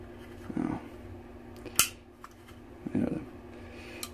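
An SK-15/17 rifle's ambidextrous safety is flipped on and off before the trigger is pulled, giving a few sharp, close mechanical clicks spaced apart and ending in one crisp snap, with no talking.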